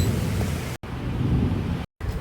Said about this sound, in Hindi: बहुत जोर बिजली कड़क रही है